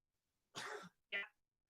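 Two short coughs, the first a harsher throat-clearing burst and the second a brief sharp cough, close and fairly loud against a quiet background.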